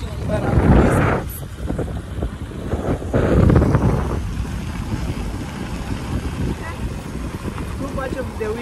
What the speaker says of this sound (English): Too much of the wind.